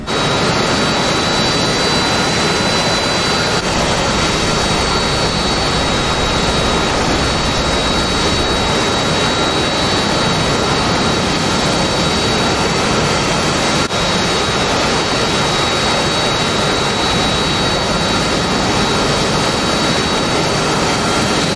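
Jet aircraft taxiing toward the runway in the DCS flight simulator, a loud, continuous roaring engine whine with a steady high tone held throughout, unbroken and alone.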